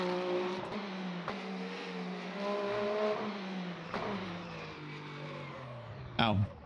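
A race car engine in the video game Le Mans Ultimate drones and revs, its pitch rising and falling through shifts, steady and close, with a brief louder burst near the end.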